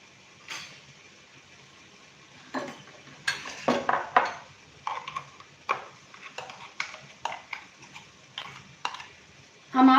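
Food for jowar and rice dhokla is spooned into a bowl, with scattered metallic clinks and scrapes of a spoon against utensils, some sharper knocks, and no talking.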